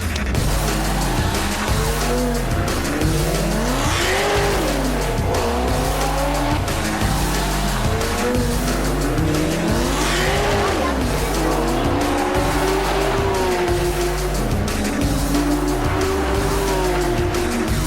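A luxury car is driven fast around the Long Beach Grand Prix circuit, its engine roaring loudly and steadily with tires squealing in repeated rising and falling sweeps through the corners, while people talk over the noise.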